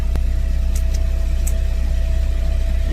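A truck's engine idles close by, heard from the back of the cab as a steady low rumble with a faint whine and a few light clicks.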